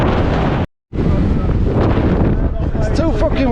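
Strong wind buffets the microphone on exposed Skiddaw mountain during a mountain bike ride, a loud roaring rush broken by a brief dropout, with voices talking under the gusts near the end.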